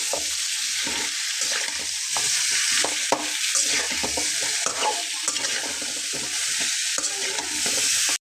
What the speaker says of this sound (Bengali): এখানে আমি নিয়ে নিয়েছি পেঁয়াজ আর কাঁচামরিচ বেটে। তো একসঙ্গে কষিয়ে নেব।